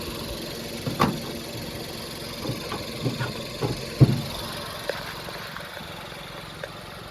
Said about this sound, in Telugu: ఇప్పుడైతే ఇంజన్లో సౌండ్ అయితే మీరు వినొచ్చు